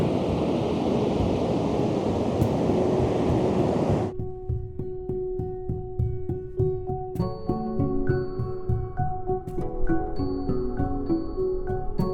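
Steady broadband roar of ocean surf near Forks, Washington, for several seconds, then it cuts to a quieter scene with tonal hums and clatter.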